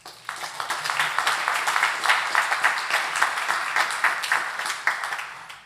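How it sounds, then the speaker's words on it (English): An audience at a city council candidate forum gives a sustained round of applause, many hands clapping densely and evenly at moderate volume throughout. "give yourselves a round of applause for showing up tonight"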